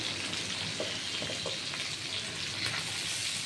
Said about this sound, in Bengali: বেশ লাল করে কপিটাও ভেজে নেব